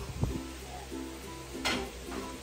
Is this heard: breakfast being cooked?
yes